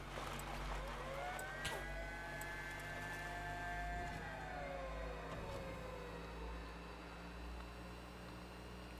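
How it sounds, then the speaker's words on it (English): A custom Syndicate Jannabi vehicle's engine in a video game at over 100 km/h, giving a steady whining drone that glides up and then down in pitch over a constant hum, with no talk. "It even has a cool sound, engine sound."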